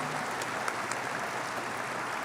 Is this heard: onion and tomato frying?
no